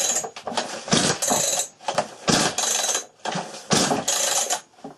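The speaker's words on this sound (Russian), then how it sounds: "Сейчас проверим, как проявляет себя эта неисправность при заводке бензокосы." A faulty petrol brush cutter is cranked repeatedly without catching. Sharp pull-start bursts come in an uneven rhythm with brief pauses between them, and the engine never fires.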